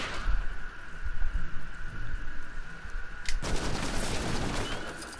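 Rapid gunfire from the character Tolk in Lego Marvel Superheroes 2, a dense continuous rattle that grows louder and harsher partway through.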